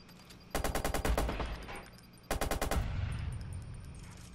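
Rapid automatic gunfire from the video game Watch Dogs: two loud bursts of closely spaced shots, the first around half a second in and the second near the midpoint, each trailing off into a lingering rumble.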